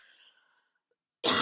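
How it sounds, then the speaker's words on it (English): A single sharp, loud cough bursts out at the end after a faint stretch of near silence. "I think I'm done now with the coughing."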